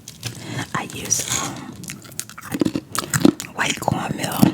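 Crunchy fried fish coated in white cornmeal is bitten and chewed up close, with irregular crisp crunches and soft mouth sounds, and whispered talk runs over it.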